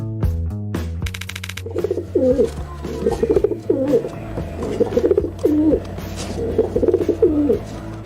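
Pigeons cooing in a steady series of soft, throaty, rolling coos, repeated roughly every second, over a low background hum, after a short burst of other tones at the start.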